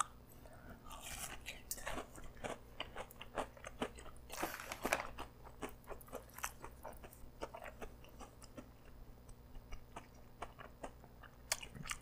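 Close, quiet chewing of salmon dipped in tartar sauce, a steady run of soft wet crunches and smacks with no talking.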